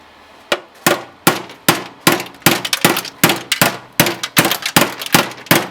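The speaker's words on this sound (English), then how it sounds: "Where's the hammer?" Repeated sharp metallic hammer blows on a turbo part during a turbo install on a Nissan S12 Silvia with a CA20E engine, about a dozen strikes in a steady, slightly uneven rhythm, loud and close with short ringing decays.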